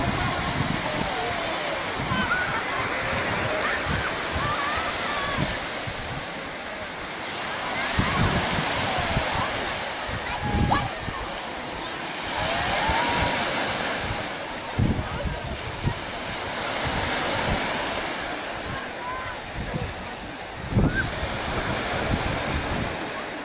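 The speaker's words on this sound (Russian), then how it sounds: "Любимовский пляж." Sea waves wash onto Lyubimovka beach in Sevastopol, a continuous surf roar with repeated breaking swells and wind buffeting the microphone throughout.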